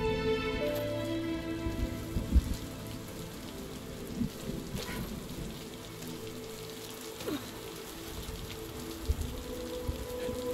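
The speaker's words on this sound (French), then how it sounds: "Il faut que je sorte de cette pluie." Steady rainfall patters across surfaces in the video game RiME, a constant soft wash with scattered drips and faint low rumbles and no voices.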